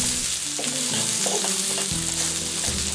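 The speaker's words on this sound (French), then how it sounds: "Mettez l'oignon, remuez pendant 10 secondes." Onion stir-fried on a hot plate after minced garlic and grated ginger, a loud continuous sizzle up close with the scrape and clatter of stirring, and no talking.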